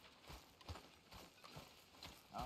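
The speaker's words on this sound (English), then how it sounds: "Ah, horses." Horses' hooves clip-clop on the ground in a video game, a soft, steady run of hoof strikes at moderate distance with no talking.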